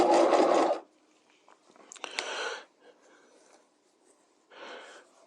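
A sewing machine stitches a piped seam with the presser foot riding against the cording, in short separate bursts with quiet gaps between, close by.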